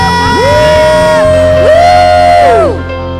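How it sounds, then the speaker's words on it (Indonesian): A church congregation cheers and shouts hallelujah in loud, sustained rising voices over steady music, swelling twice before easing off at the end. "Sambil bangkit diri sorak-sorai buat Tuhan, sorakan haleluya"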